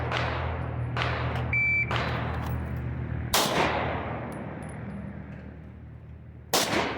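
Pistol shots fired at a target on a shooting range, with sharp loud cracks at irregular intervals: several quick reports early on, a heavy shot midway and another near the end, each followed by a ringing decay.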